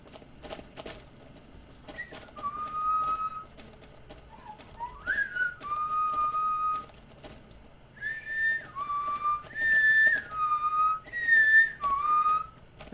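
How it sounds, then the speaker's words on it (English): A person whistles a tune, clear bright notes in short phrases separated by pauses, close and fairly loud, with faint clip-clop and footstep sounds behind. "I hope you like my whistling,"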